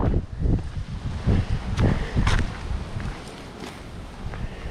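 Gusty wind rumbles across the microphone at the top of a trail in Bahia Honda State Park, with rustling and a few footstep-like thumps rising and falling, then easing to a steadier low whoosh.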